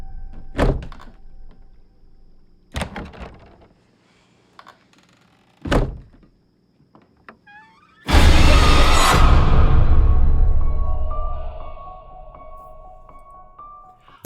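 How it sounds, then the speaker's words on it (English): Closet door being closed in the Halloween 2018 trailer: several sharp thunks spaced apart in near silence, then a loud sustained crash-like swell that slowly fades. "Can you close the closet door?"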